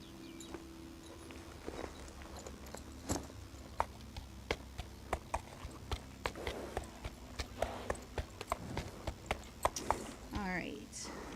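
Horse hooves clip-clopping in the game Equinox Homecoming, a steady walking rhythm of light hoof taps over quiet ambient background, with a voice speaking briefly.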